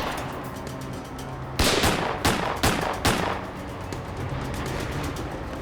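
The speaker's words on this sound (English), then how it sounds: "The man kept firing at Officer Rogers, then chased Torres" Gunfire in a staged crime reenactment of a shootout with police officers: four sharp, loud shots ring out in quick succession over a steady background hum, then the scene settles back to a low ambient drone.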